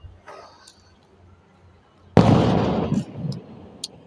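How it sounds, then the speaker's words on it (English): A faint pop and crackle, then a single loud firework burst that rolls off into a rumbling tail, with small crackles trailing afterward. "It's a series of fireworks."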